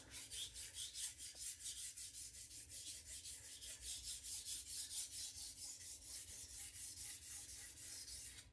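A knife is sharpened on an Atoma diamond plate, with rapid, rhythmic rasping strokes back and forth, about two per second, steady, close and fairly quiet.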